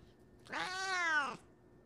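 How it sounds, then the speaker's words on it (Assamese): A cat lets out one drawn-out, wailing meow lasting just under a second. It is close and clear, with quiet before and after. "সঁচাই মেকুৰীৰ কান্দোন এটা ভয়ংকৰ অভিজ্ঞতা"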